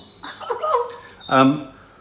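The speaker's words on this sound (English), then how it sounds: "that beautiful sound is the bird" A mother bird calls near the nest her fledglings are leaving, giving a short bright chirping phrase close by, with light talk-like sound around it.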